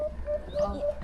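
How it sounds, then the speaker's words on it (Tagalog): A crow calls in short, repeated hoarse notes at moderate distance, with low background rumble underneath. "tunog yun ng uwak."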